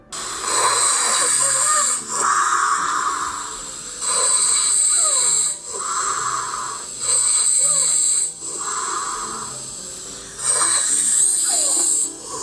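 Loud, rasping snores recorded during sleep by a smartphone snoring app repeat in a slow, regular rhythm, each breath drawn out with a harsh hissing quality and short pauses between.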